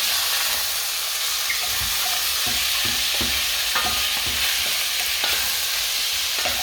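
Lamb meat stirred and browned in a hot pan, a loud steady sizzle with scraping stir strokes repeating throughout, close and alone without talk.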